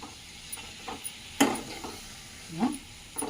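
Fenugreek (methi) leaves frying with turmeric and salt in a pan for chutney: a soft, steady sizzle with occasional spoon scrapes and stirring knocks against the pan.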